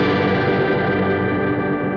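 Guitar played through a reverb effect with the level at full wet and no dry signal, a sustained washy wall of tone with held notes smeared together at steady loudness.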